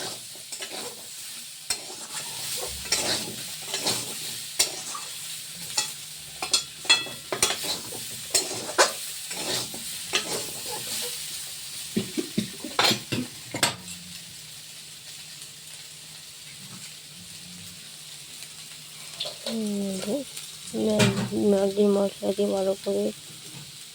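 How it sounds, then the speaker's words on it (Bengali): Potatoes tossed with Maggi masala in a frying pan: repeated scraping stirs and clinks over a soft sizzle, irregular bursts spread through the stretch, with a brief voice-like hum near the end. "ম্যাগির মশলাটা দিয়ে ভালো করে নাড়িয়ে নিচ্ছে আলুটার সাথে"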